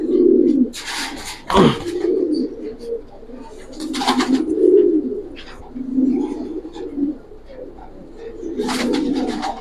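Giribaz pigeons of the Palla line coo repeatedly in low rolling phrases, fairly close, with a few wing flutters and short bursts of noise between the calls.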